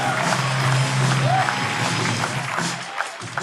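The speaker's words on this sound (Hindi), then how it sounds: "शीजा चतुर्वेदी के लिए जोरदार तालियां दोस्तों, प्लीज जोरदार" A studio audience applauds a show guest with a dense patter of clapping, mixed with background music and crowd noise, fading somewhat toward the end.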